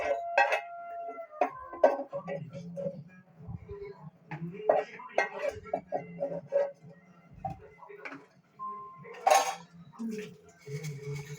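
Palakova sweet made from curdled milk is spooned from a pan into serving bowls, with repeated clinks and scrapes of metal utensils against dishes close by, irregular and busy throughout, and no talking.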